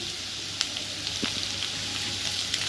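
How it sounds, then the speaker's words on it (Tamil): Onions and green chillies fry in a pan for a Kerala-style chicken curry, giving a steady, close sizzle and hiss with a few faint clicks and pops throughout. "இப்போ வெங்காயம் வதங்கிட்டு இருக்கு"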